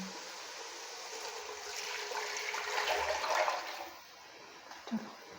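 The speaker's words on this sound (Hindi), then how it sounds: "अब हम इसमें अपने चावलों की क्वांटिटी के अकॉर्डिंग पानी डालेंगे।" Water pours into a cooking pan over fried ginger paste for rice, a steady splashing gush that builds for a few seconds and then tapers off, heard alone without talk.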